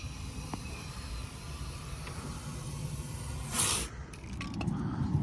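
Cavity wax rust protection sprays into a BMW E46 car body cavity, a faint hiss under quiet background noise that swells into a louder, brief spray burst toward the end.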